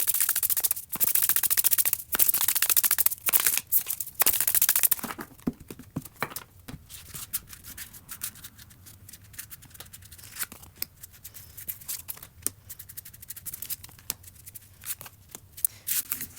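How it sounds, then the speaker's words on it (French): Tarot cards shuffled by hand, a run of loud, crisp riffling bursts followed by quieter scattered flicks and soft rubbing as the cards are handled. "je mélange les cartes, je vais les étaler"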